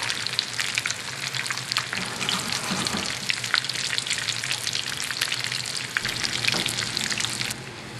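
Batches of clam fritters, New England clam cakes, fry in hot oil in a 10-inch skillet with a loud, dense, continuous sizzle and crackle heard up close and steady throughout, with no talking.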